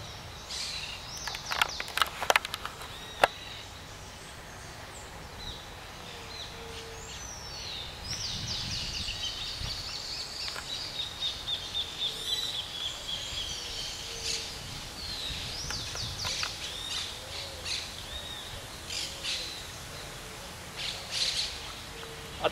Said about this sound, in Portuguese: Os passarinhos.